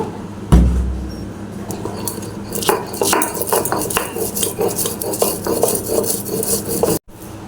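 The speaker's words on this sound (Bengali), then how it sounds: "সর্ষের লঙ্কাটা আমি বেটে নেবো তার সাথে একটু লবণ দেবো" Green chilli, mustard seeds and salt being ground into a paste by hand, heard as close, continuous scraping and rubbing strokes with clinks of utensils, fairly loud and uninterrupted by talk.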